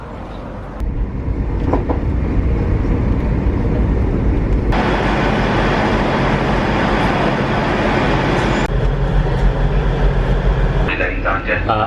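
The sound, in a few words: train ride to London Paddington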